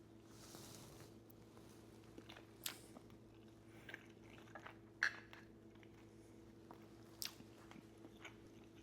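Close, quiet chewing of a forkful of beef stroganoff with egg noodles and thyme, soft wet mastication with a few sharper clicks and bites over a steady low room hum, no talking.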